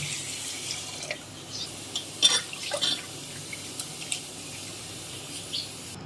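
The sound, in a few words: washing lentils and rice in water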